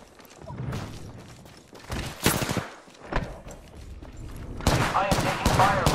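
Gunfire in the video game Apex Legends comes in scattered bursts, sharp volleys rising and falling over about six seconds. A louder cluster of shots near the end is mixed with faint voices.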